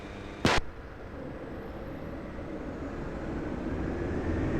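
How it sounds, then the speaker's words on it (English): An Embraer 195 airliner takes off at Lisbon Airport, its engine roar building steadily from a distance, with a brief sharp click near the start and no talking. "Embraer 195 now departing"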